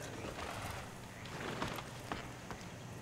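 Horse in Red Dead Redemption, with steady clip-clop hoofbeats trotting close by over a constant outdoor ambience, plus an occasional faint snort, and no speech.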